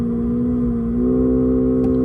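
Simulated Honda VTEC engine sound played by an electric car, a steady synthetic drone that steps up in pitch partway through as the revs climb slowly, then holds close and fairly loud.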